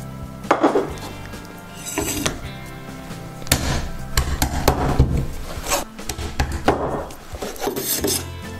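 Repeated knife strokes and thuds on a cutting board as a chicken leg is cut into pieces, irregular chopping and scraping with clinks of utensils, close up and with no talking.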